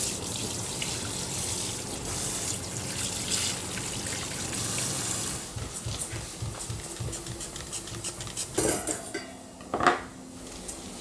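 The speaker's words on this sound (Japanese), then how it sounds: "アクがついてるんで、これを洗い流していきます。" Water runs steadily from a tap into a sink, then splashes and clatters as boiled pork is rinsed and handled, no talk.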